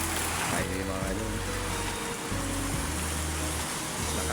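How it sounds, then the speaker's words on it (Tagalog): Heavy rain pours steadily as a constant loud hiss, with a voice and droning tones underneath. "Lakas ang ulan mga idol."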